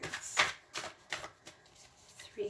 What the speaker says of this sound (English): Cards don't want to pop out.